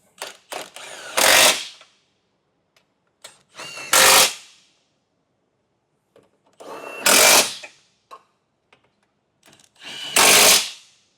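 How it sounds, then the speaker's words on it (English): Four loud, close mechanical bursts from a socket tool tightening trailer hitch bolts on a 2017 Mini Clubman, each a second or so long, separated by quiet gaps with small clicks and handling noises. "we'll tighten it down with the same socket we used to take our bumper beam off"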